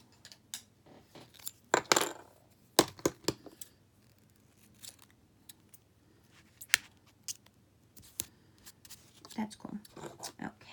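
Scissors snip through a planner sticker in a few quick, close cuts, with paper crinkling and small handling noises in a quiet room, and a voice speaking briefly between the snips.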